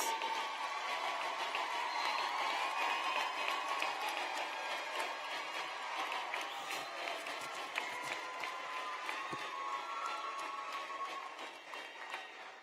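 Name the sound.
graduates' round of applause for their families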